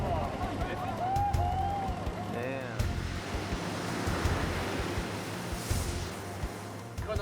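Ocean waves break and wash over a reef in a continuous roaring surf with gusty wind, while a voice speaks over the water.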